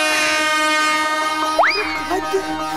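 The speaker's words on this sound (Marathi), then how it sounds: "शंख वाजला, बघा शंख वाजला" A long, loud conch-like blast during a Marathi comedy sketch: a sustained, buzzy harmonic tone that ends in a sharp rising pitch sweep, with a few short bursts after it. No one talks over it.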